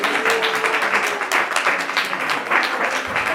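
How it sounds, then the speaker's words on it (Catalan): Studio audience at a Catalan television show breaks into sustained, dense applause, steady and fairly loud throughout with no voices over it. "Un aplaudiment!"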